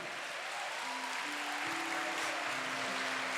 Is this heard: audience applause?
yes